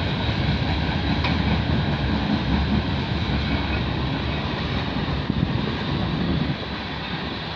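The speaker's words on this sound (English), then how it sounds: "Well, we got distribution power units coming up." CP/CN freight train with distributed power units rolling past in Milton, Ontario, a continuous loud low rumble of wheels and cars mixed with wind buffeting the microphone, steady for the whole stretch.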